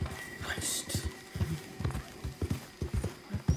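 A mare in Red Dead Redemption walks along, her hooves clip-clopping in a loose, uneven rhythm. The knocks are close but fairly quiet, with a brief higher-pitched burst of sound near the start.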